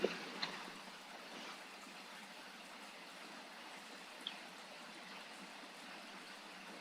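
Shower water runs in The Sims 4 as a steady, soft, hissing spray that continues evenly throughout, with a couple of faint clicks and no talking.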